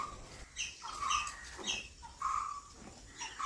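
A coppersmith barbet calling, several short repeated notes at an uneven pace, fairly faint and somewhat distant, with no voices.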